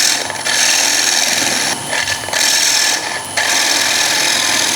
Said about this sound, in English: Again, I'm just using my 1/4 inch bowl gouge.